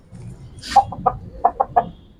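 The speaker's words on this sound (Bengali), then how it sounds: "লাল মোরগ ভাই এটা কি মোরগ" A red rooster gives a run of about five short, throaty clucks, fairly close, with brief pauses between them over faint background noise.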